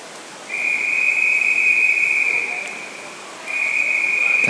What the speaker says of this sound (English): David Bell will hear the whistle.